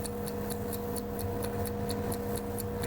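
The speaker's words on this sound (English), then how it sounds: "Oh no, we're going to hear that ticking the entire time." A clock ticks fast and evenly, each crisp tick close and clear over a steady low hum, with no voices.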